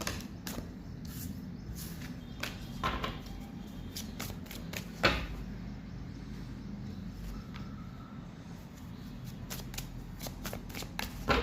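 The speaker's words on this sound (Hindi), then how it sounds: "5 कार्ड लूँगी मैं यहाँ से।" Tarot cards are shuffled and drawn by hand in a quiet room, a series of soft crisp riffles and flicks at close range, with faint background hum and no talk.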